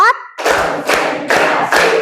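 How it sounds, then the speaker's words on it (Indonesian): Four loud, evenly spaced hand claps ring out close by in a classroom clapping routine, following a brief vocal sound at the start. "Tepuk 1, tepuk 2, tepuk 3, tepuk 4"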